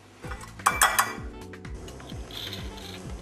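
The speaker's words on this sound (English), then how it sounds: "we put the heat on and we prepare our frying pan" A frying pan set on the heat to get very hot before cooking swordfish, Palermo style; metal pans and utensils clink and clatter a few times close by, with quieter rattling afterwards and no talk.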